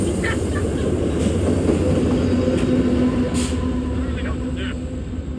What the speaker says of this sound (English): Oh, saved by the train.